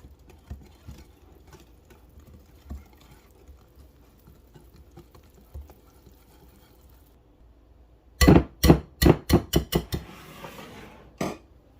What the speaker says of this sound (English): Now we're going to whisk everything together.